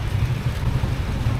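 Inside a car in traffic near Atok, Benguet, Philippines, a downpour makes a thick, unbroken hiss and rumble, loud and close, with no voices.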